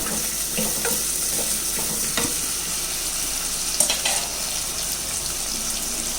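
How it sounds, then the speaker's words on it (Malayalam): Onion and tomato sauté in a pan for a fish curry, sizzling steadily with occasional scraping stir sounds close by. "ഈ തക്കാളിയും കൂടെ ഒന്ന് നല്ലതുപോലെ വാട്ടിയെടുക്കാം."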